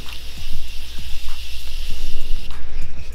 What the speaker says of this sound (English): I'm gonna take some Morphe setting spray.